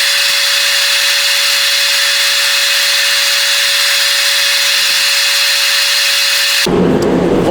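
A power saw runs continuously at high speed while cutting wood studs on a new construction site, a loud, steady whine that cuts off abruptly near the end.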